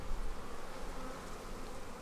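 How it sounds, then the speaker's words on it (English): Angered honey bees buzz loudly around an open hive during an inspection, a dense, steady droning swarm close by with no talking. "I just angered some bees"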